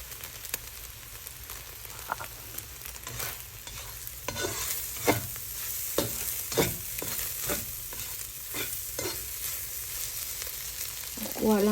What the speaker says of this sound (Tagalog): Scramble lang natin ng kaunti.